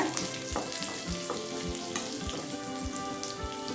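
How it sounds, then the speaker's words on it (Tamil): Small onions sautéing in a pan for onion mint chutney, a steady close sizzle with rhythmic scrapes and taps of a spoon stirring, no voices. "இப்போ சின்ன வெங்காயத்தை நல்லா வதக்கியாச்சுங்க."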